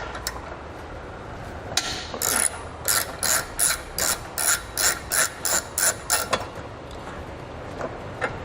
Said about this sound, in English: Then we're going to remove this bolt using a 12mm socket.